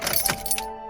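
Keys jingle and click in the ignition of a BMW E85 Z4 during a power steering fault, several quick metallic rattles up close, followed by a steady faint electrical hum.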